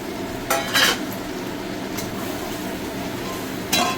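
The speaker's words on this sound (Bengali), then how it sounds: "চিকেনটা দিয়ে আরেকটু কষিয়ে নেবো, আর তার সঙ্গে আলুটাও দিয়ে দিলাম" Chicken and potatoes sautéed with spices in a pan for chicken curry, a constant close sizzle broken by a few brief bursts of scraping stirs, with no talking.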